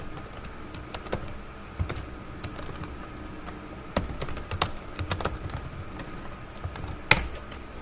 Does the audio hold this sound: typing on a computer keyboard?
yes